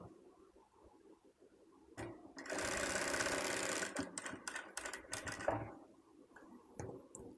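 Sewing machine stitching the shoulder seam of a frock made from an old shirt: a quiet lead-in, then a loud continuous run of rapid stitching for a few seconds, broken into short bursts and clicks before it stops.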